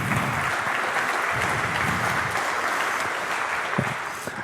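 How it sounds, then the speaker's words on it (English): A conference audience applauds for The Hague at a hacker camp talk, a steady burst of clapping from a full room lasting several seconds, loud and close with no voices over it. "I would like to get a little of a clap going for The Hague"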